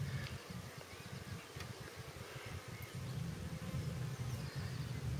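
Honeybees from a strong, queenless hive buzzing around an opened colony in an April apiary, a continuous low droning swarm hum, close and steady, swelling slightly toward the end.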